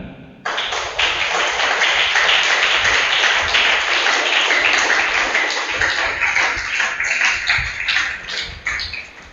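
A church congregation applauds steadily for several seconds, a dense wash of many hands clapping at moderate volume with no voices on top.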